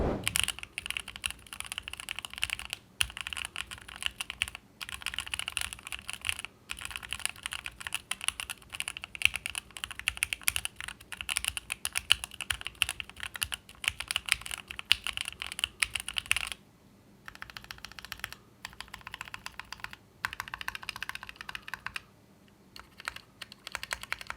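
Close, continuous typing on a Keychron mechanical keyboard with red switches, a quick stream of light clacks with a brief pause before the keystrokes resume.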